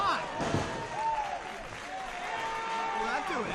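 A packed crowd at a wrestling event cheers and applauds, a steady roar of noise under excited commentary voices talking over it.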